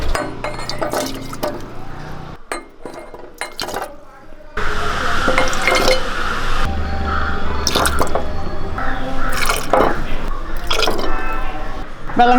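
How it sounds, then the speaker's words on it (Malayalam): Cooled salt-water brine poured into a bottle for pickling pineapple, carrot and gooseberry, a steady close liquid gush with drips and clinks, loudest in the second half. "ഇപ്പോൾ നമ്മുടെ ഉപ്പുവെള്ളം എല്ലാം തണുത്തിട്ടുണ്ട് ഇനി നമുക്കിതൊന്ന് കുപ്പിയിലോട്ടാക്കാം"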